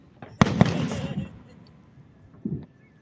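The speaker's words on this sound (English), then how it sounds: "It's so cool how over here they make some firework shapes too." Two sharp Independence Day firework bangs land close together, then a crackling tail fades, and a softer burst follows a moment later; faint voices sit underneath.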